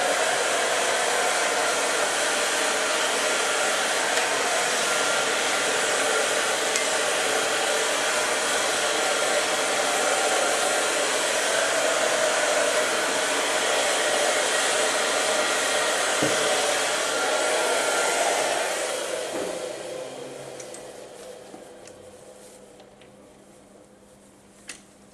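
A hair dryer blow-drying hair runs as a loud, steady close roar for about eighteen seconds, then fades and cuts down, leaving faint handling noise.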